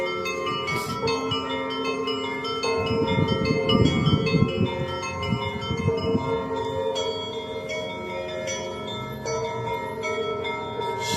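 Church bells ring continuously at Sophia Square in Kyiv, overlapping peals with a rich, resonant tone that swells and lingers over several seconds.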